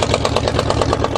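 A Buick 350 V8 idling after a cold winter start, a steady loud rumble with an even, throbbing firing rhythm close by and nothing else over it.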